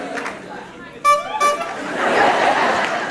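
High school audience members imitating a car horn with their voices, two short nasal honks cutting through a murmuring crowd, followed by general chatter and noise.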